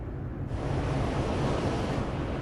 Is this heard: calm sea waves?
yes